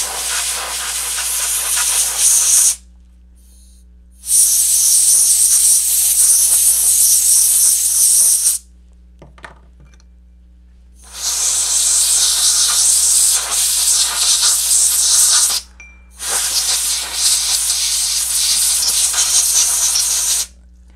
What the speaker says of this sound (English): We'll shoot that with some compressed air to dry it.